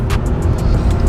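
A Chrysler Crossfire accelerates on the road, its engine a steady low roar with a faint pulsing whoosh over the top, loud and close throughout the short stretch.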